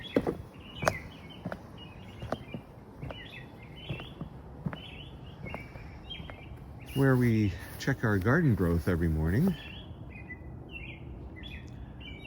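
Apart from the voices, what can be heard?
birds singing in the morning garden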